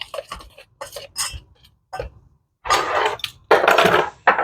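Cracker dough ingredients, flour and baking powder, mixed in a bowl: scraping, clinking utensil strokes against the bowl, close and moderately loud, after a stretch of quieter clattering.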